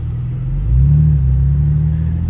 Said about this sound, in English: The AWE exhaust actually sounds pretty good in this thing.